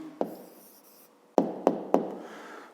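Pen or chalk strokes mark down an answer on a surface, with one tap and then three firm, sharp knocks close together near the end.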